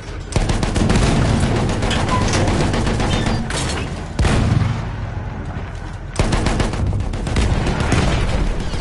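Artillery and gunfire in a PS4 video game roar in loud dense barrages, with booming volleys that stop and restart several times, and a voice calls out briefly.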